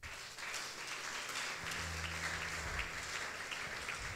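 A church congregation applauds during a worship service, a dense and continuous clapping that runs the whole time, with a low hum of background sound underneath.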